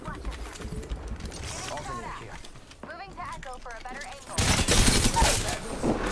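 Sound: gunfire in a video game

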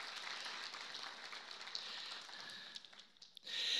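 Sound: congregation applause

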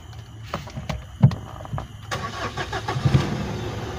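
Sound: Mitsubishi Triton common rail diesel engine starting

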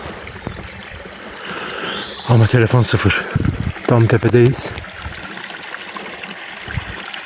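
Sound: small stream flowing in a forest

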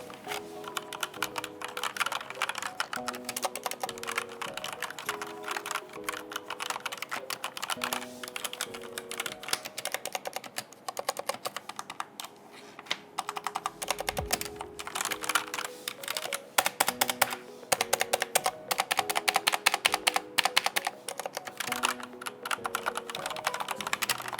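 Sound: typing on Razer BlackWidow V3 keyboard with linear optical switches

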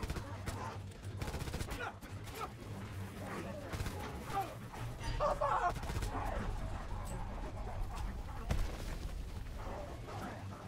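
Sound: gunfire shooting zombies in Call of Duty WWII Nazi Zombies video game

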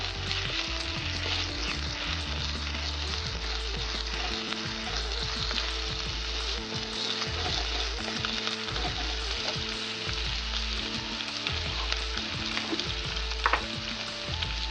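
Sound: stirring Kerala karimeen curry ingredients in a pan

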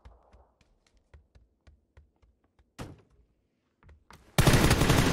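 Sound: gunfire in the video game PUBG

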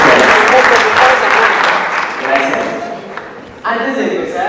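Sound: applause

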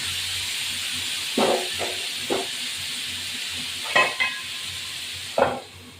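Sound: potatoes frying in a pan

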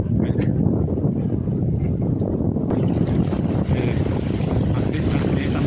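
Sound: strong wind on the seafront

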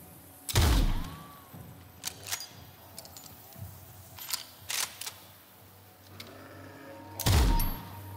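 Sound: gunshots in the video game Nightingale

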